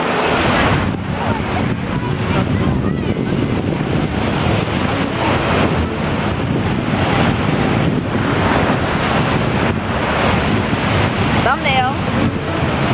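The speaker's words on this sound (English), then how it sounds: "Out here at the beach now." Ocean surf breaks steadily on a Florida beach, a continuous loud wash of crashing waves with heavy wind buffeting the microphone throughout and no clear pauses.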